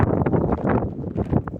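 Gusty wind buffets the microphone outdoors on a sunny winter day, loud rumbling blasts that swell and fade irregularly with no voices.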